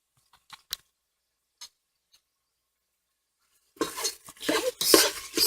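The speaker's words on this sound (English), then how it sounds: "Stir that in." Seasoning is stirred into chili beans in a slow cooker pot: a few faint clicks, then a loud stretch of spoon scraping and stirring against the pot near the end.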